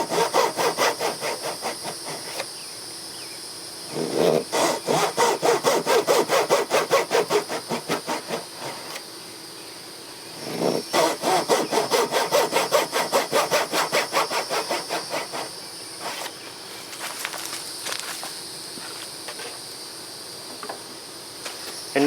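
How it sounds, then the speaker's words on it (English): A hand saw making relief cuts in wood for a Japanese scarf joint, rapid rasping strokes in two long bursts, with quieter gaps and lighter sawing between and after. "Now I'm going to make some relief cuts in the middle."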